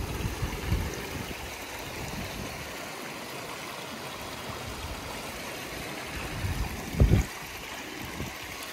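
Mountain stream water tumbling into a small plunge pool on moorland in the Peak District, a steady broadband rush and splash held close to the water with a brief louder surge near the end.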